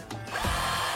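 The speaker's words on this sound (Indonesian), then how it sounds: "nah untuk mengebor" Xenon cordless drill boring into thick material at low speed, a short close whirring motor with a grinding bite as the bit engages.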